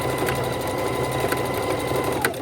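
A sewing machine stitches back and forth over the joined elastic of a fabric hair scrunchie, giving a continuous, close, mechanical whirring hum with no pauses.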